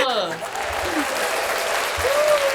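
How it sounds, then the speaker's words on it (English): Applause from a small audience at a live podcast event, a steady patter of clapping running throughout with people talking and cheering over it. "Give the round of applause, please"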